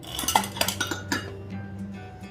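A utensil stirs egg bread batter in a bowl, making a few quick clinks and scrapes against the rim early on, then softer swishing as the mixing slows, close and quiet.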